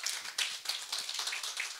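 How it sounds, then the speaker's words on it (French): Audience applause at a business forum awards evening, a steady burst of many hands clapping in a room, fairly loud and continuous for under two seconds. "Applaudissements, s'il vous plaît."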